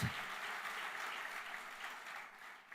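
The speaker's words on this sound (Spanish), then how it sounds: "Dale ese aplauso al Señor." A church congregation claps for the Lord during a Spanish-language service, a soft, steady wash of many hands heard from some distance, continuous and even, fading slightly at the end.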